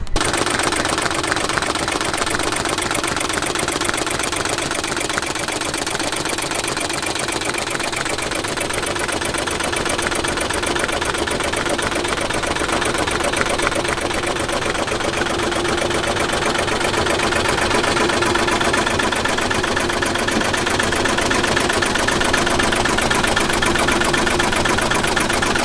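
Embroidery machine stitching black thread onto a tan dad hat, a steady, dense mechanical whirring hum that runs continuously at close range with no talk.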